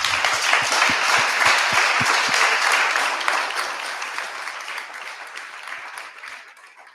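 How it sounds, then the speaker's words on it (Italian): Audience applause greeting a young woman just honoured for a medal, a dense burst of clapping at full strength that thins and softens gradually over several seconds, with a few sharp low thumps near the start. "Bisognerebbe fare un applauso a questa ragazza."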